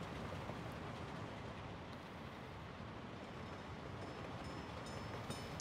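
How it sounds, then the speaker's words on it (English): A train rolls along rails in the city-building game Workers & Resources: Soviet Republic, a faint, even rumble of wheels and wagons that continues steadily throughout. "we'll just follow a train around here"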